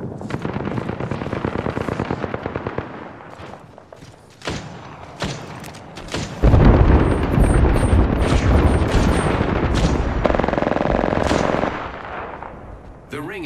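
An artillery strike lands in the Apex Legends battle royale game, a barrage of heavy booms and rapid gunfire-like blasts that swells into a loud, sustained rumble of explosions, with game voice lines heard briefly.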